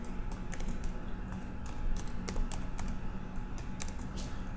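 Fingers type an Excel formula on a computer keyboard, a quick, close patter of light key clicks with small pauses, over a low steady background hum.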